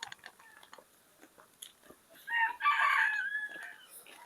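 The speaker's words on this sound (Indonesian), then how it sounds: "Masih terdengar juga suara ayam berkokok atau kongkorongok." A rooster crows once in a village in rural northern Cianjur, Indonesia, a loud drawn-out call rising out of quiet background ticks and rustles, fairly close by.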